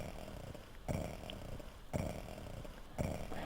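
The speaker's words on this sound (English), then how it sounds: "I like these snoring sound effects." Sleeping character in King's Quest III snoring, three or four low raspy snores in a slow even rhythm, faint and alone against a quiet background.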